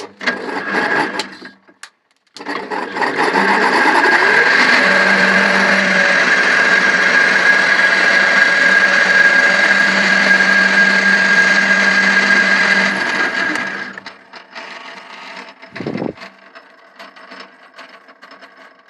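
A power tool machines a 25 mm threaded tensioning screw with a 5 mm pitch for a homemade vertical band saw, running as a loud, steady whine for about eleven seconds, then winding down, with a brief knock afterward.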